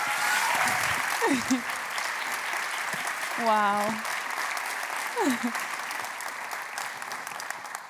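Audience applause welcoming a speaker onto the stage at a Hague Talks event on climate justice, a steady wash of clapping throughout, with a brief exclamation from a voice and a faint whistle-like tone in the middle.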